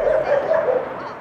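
Military working dog barking and yipping in short, close, loud bursts with a whiny edge.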